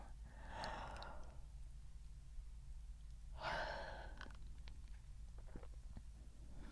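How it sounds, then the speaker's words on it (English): Two slow, breathy human yawns in a quiet room, one near the start and a second about three seconds later, each a soft drawn-out exhale with no talking, as part of a nighttime sleep meditation. "Now a yawn to help you."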